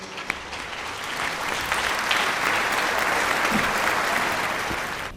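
Steady audience applause at a Tamil Mother's Day debate event in Vellakovil, swelling quickly and holding as a dense, loud wash of clapping from a large crowd for about five seconds before tapering.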